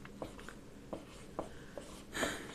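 Notes being written on a board during a classroom lecture on reflection of light, heard as faint, scattered short scratching strokes in a quiet room.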